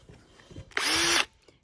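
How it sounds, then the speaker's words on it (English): A power drill boring a hole at high speed through a workpiece resting on a wooden table, a single loud whine lasting about half a second after some faint handling noises. "So now you're just going to drill your holes."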